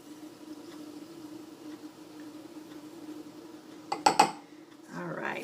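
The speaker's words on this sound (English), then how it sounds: "So now we're going to add in our chia seeds." Chia seeds poured into a container for mango chia seed pudding give a brief, close rattling clatter of about a third of a second, followed by a softer rustle over a low steady hum.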